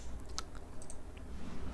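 A short run of light computer keyboard key clicks, close and fairly faint, with no talking.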